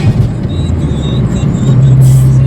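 A car drives along with its window open, giving a steady, loud rumble of road and wind noise with a low engine drone underneath and no voices.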